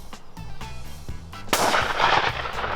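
A Beretta 682 Gold shotgun fires a single loud, close shot at pigeons, a sudden blast that rings out over faint background rustling.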